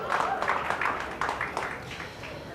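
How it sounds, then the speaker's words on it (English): An audience at a San Miguel Asian 9-Ball Tour pool match in Jakarta gives a short burst of applause, steady clapping that fades out over a couple of seconds, with a commentator's voice faintly underneath. "They're applauding"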